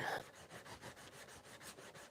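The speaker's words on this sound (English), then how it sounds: "finish sanding that up, the actual hand tool." Quiet, rhythmic rasping strokes of hand sanding on a restored wooden spokeshave, about six even back-and-forth passes, close and soft, with no talking.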